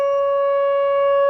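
Emergency siren system in Lake Charles sounding a test, a loud, sustained, steady single-pitch tone with strong harmonics and no audible rise or fall over its short span.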